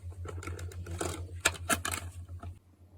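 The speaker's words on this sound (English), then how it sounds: "a Coke bottle is her new favourite toy, and it's the noisiest toy in the world" A plastic Coke bottle crinkles and clicks in irregular bursts of crackles and taps, over a faint, steady low hum.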